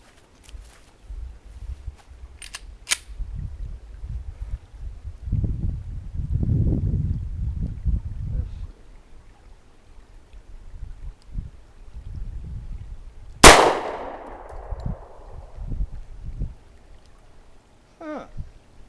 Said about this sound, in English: Alright my friends, first shots, Taurus PT111 G2.